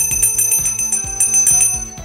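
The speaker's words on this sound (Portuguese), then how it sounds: "ative o sininho" A bright notification bell effect rings in a quick repeating pattern of metallic dings, clear and close, with no talking over it.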